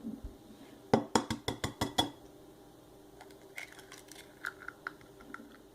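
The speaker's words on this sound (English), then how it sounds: "I'm going to start by cracking my 2 eggs" Two eggs are cracked into a bowl, starting with a quick run of about seven sharp taps on the rim, followed by fainter, scattered clinks of shell and bowl.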